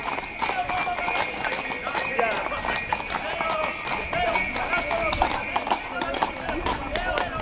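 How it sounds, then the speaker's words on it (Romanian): Horses' hooves clip-clop in a quick, uneven patter during a Bucovina New Year customs procession, with bells jingling and people talking throughout. "Aveți grijă la cai."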